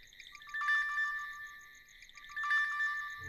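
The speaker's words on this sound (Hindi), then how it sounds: "फोन के अलार्म से मेरी नींद खुली" A phone alarm rings with a bright electronic melody in two repeating bursts, quiet and clean with nothing else audible.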